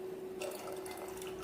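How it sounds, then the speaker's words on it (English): Soaked millet and its soaking water are poured into a pot of boiling water, a faint splashing trickle over a low steady hum. "When the water starts boiling, add soaked millet along with the water."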